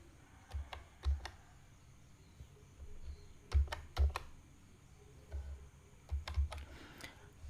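Keys tapped on a computer keyboard while entering a one-time passcode for the PM Kisan scheme, heard as several short bursts of soft clicks separated by pauses, close and fairly quiet over a faint room hum.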